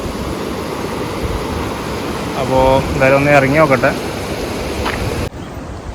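Rushing water of a small river in Attappadi, a branch that flows into the Bhavani river, makes a steady broadband wash throughout. Someone talks over it before the sound cuts off abruptly near the end.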